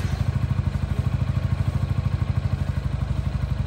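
A 2024 Yamaha XMAX scooter engine runs steadily at idle, giving off a close, even low-pitched putter with a regular pulsing beat and light mechanical clatter.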